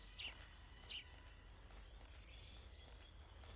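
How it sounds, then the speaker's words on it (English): Faint birds chirp in the Metal Gear Solid 3 jungle, with two short, high calls early on over a quiet bed of insect hum and ambience. "Don't disturb the birds."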